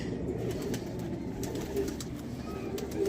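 Female pigeon cooing softly while being handled, low throaty coos repeating under steady background noise, close by.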